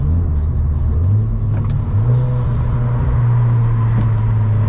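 Inside a Hyundai Genesis Coupe cruising at sunset with the windows up, a loud, steady engine drone fills the cabin, its pitch stepping up a couple of times as the car gently builds speed, with road noise underneath.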